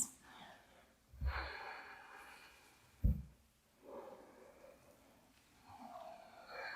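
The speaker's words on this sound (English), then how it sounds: "I'm going to take a couple more breaths" Slow, deep breaths drawn and released during a quiet yoga session, a few long audible inhales and exhales with soft rushing air, close and fairly faint.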